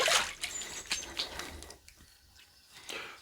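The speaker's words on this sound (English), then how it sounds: "I'm going to rinse off" Water running and splashing while shaving soap is rinsed off, a short close splatter of liquid that fades quickly into quieter trickling.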